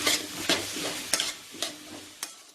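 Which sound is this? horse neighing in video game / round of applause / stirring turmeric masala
stirring turmeric masala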